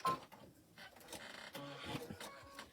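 A sewing machine running at full speed, stitching across a quilted beach house mug rug in a short, steady mechanical whir of needle strokes, close and alone.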